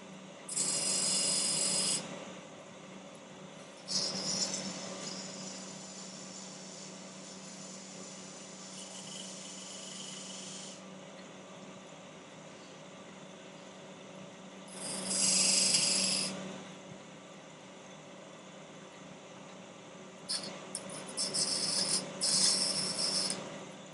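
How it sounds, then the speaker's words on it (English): A 9/16 spindle gouge cuts into spinning wood on a lathe in repeated rasping bursts, some long and some short, close and harsh over a steady low motor hum. "This is a spindle gouge."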